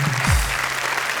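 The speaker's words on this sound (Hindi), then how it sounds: "तालियां बजाइए" Audience clapping at a Hindi poetry recital as a poem ends, a brief loud burst of dense applause with a low thump near the start.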